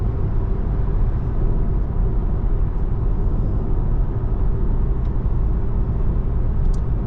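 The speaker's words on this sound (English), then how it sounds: "Here comes the car overtaking me now in lane 3." Steady, loud motorway rumble from inside a car on the M4 as another car overtakes in lane 3, a continuous road-and-engine drone with no distinct pass-by peak standing out.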